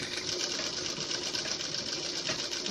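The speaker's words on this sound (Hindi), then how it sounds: "इसी तरह से किनारे पर सिलाई लगाएंगे और पूरी पट्टी के किनारे पर इसको आखिर तक हम इसमें ऐसे सिलाई लगा देंगे।" A sewing machine stitches along the edge of a blouse strip with a continuous, even whir of fast needle strokes, heard close and alone throughout.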